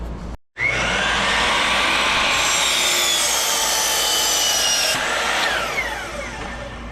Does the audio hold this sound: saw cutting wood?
yes